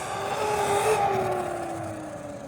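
A 1/14 scale MJX HyperGo 14210 RC car on paddle tires runs along a road outdoors, giving a loud, steady whining motor drone with a gritty, roaring tire hum and a slight pitch glide, no talking.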